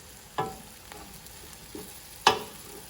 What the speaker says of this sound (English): Try mixing it up in the middle.